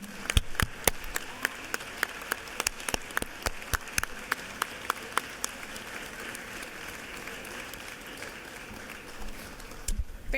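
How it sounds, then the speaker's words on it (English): A round of applause fills a state House chamber, a crowd clapping steadily in a dense patter with sharp individual claps standing out, then a brief murmur at the end. "Let's give Coach Alman and the Norcross Running Club a big round of applause."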